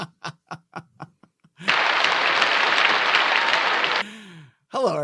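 A slow clap of about seven spaced hand claps, followed by a burst of full applause and cheering from a group that then fades.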